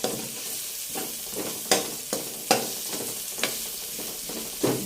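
Aromatics sautéing in oil left over from frying milkfish, a continuous close sizzle punctuated by about half a dozen crisp spatula scrapes and stirs, no voices.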